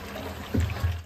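Half a lemon's juice poured into hot water with whole spices for biryani rice, a short wet splash and dribble with two brief pulses, close and fairly soft, no talk.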